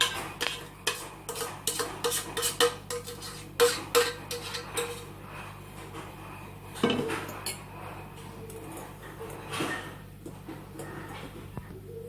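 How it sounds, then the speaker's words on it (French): Melted chocolate is gently stirred into whipped egg whites for a chocolate cake: a run of light utensil clinks against the bowl, then softer scraping and an occasional knock. "on ajoute le chocolat au blanc d'œuf qui a été monté. Et on va tout remuer tout doucement"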